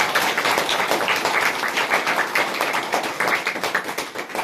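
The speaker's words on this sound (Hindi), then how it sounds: "तो दिल से हम सभी ताली बजाते हैं।" A group of people clap together in welcome at a centre's annual function, a dense, steady patter of many hands that carries on unbroken for several seconds.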